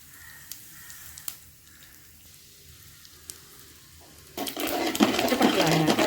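Seasoning hits hot oil for an eggplant and peanut pulusu and bursts into loud, crackling spluttering partway through, after a quiet stretch with a few faint clicks.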